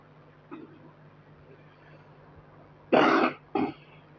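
A man with a cough, recording a spoken lesson, gives a soft throat-clear, then two loud close coughs in quick succession near the end, otherwise quiet.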